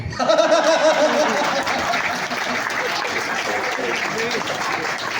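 Applause fills the hall at a comedy poetry show, dense and steady clapping from a large crowd throughout, with a brief voice at the start.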